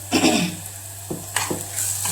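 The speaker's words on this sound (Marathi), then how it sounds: "व्यवस्थित हलवून घ्यायचं।" Mixed vegetables seasoned with salt and Kolhapuri chutney are stirred in a pan, making a few scraping, clattering strokes with a light sizzle between them, close and moderately loud.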